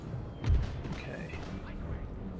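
Cannon and musket fire in the Empire Total War strategy game, a muffled boom followed by a continuous rumble of distant battle noise, with someone talking over it.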